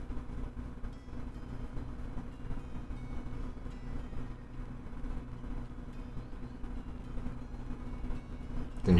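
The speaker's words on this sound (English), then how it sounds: "Trains are running." A train runs through a station in the Pokemon Shield video game, a quiet, continuous rumble with light rolling clatter that swells slightly at the end.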